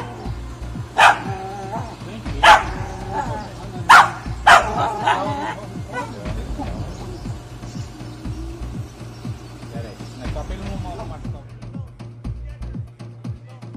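A dog in Russia, filmed with its drunk owner, barks in several sharp, loud bursts early on, then gives softer yips and whines beneath a steady electrical hum.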